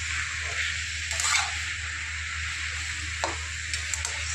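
Fenugreek leaves and potato sauté in a pan with a steady close sizzle, broken by a few soft stirring scrapes and taps, no voices.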